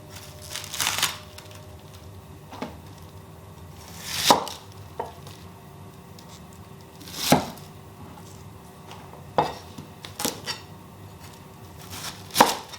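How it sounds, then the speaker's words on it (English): A knife chops ingredients for a Northeastern Chinese mixed stew into bite-sized chunks, with sparse, separate thuds and crunches against a cutting board, a handful of cuts spread out with pauses between them. "just cut it into chunks as well. Bite-sized chunks"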